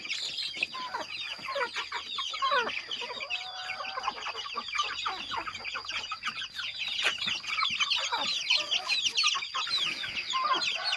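A flock of young chickens free-ranging on the ground clucks and chatters continuously, many birds overlapping at moderate distance, with a steady high whine running underneath.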